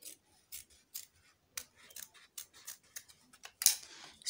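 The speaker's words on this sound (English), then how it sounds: "I'll cut it like so." Scissors cut through dress fabric for a child's dress, a run of separate close snips and crisp shearing strokes spaced through the clip, with a louder rasping cut near the end.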